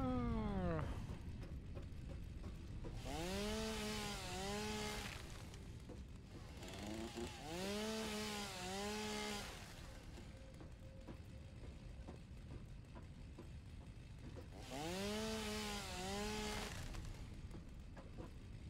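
A chainsaw in the video game Satisfactory revs in three separate bursts, its whine rising and falling in pitch each time over a steady low engine drone.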